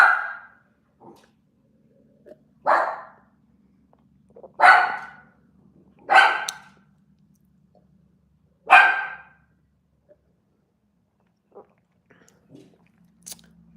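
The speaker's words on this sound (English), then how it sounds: "I think she's barking at my father-in-law." A dog barks indoors in about six separate bursts spread unevenly, each short and fairly close, with quiet gaps between and faint background hum.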